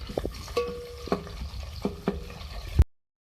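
A spoonful of ground ginger frying in a pan, heard as a soft sizzle broken by several sharp spoon scrapes and clinks against the metal, ending with one louder knock before cutting to silence.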